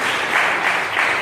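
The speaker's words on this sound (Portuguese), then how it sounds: "dê uma salva de palmas para Jesus" A church congregation claps together, a steady, dense wash of applause that stays loud and even throughout, with no voices heard.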